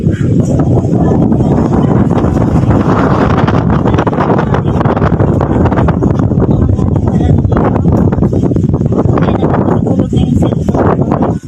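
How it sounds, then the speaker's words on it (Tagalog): Strong wind gusts in a backyard buffet the microphone with a loud, rumbling roar that surges and dips continuously, close and overpowering. "Sobrang hangin."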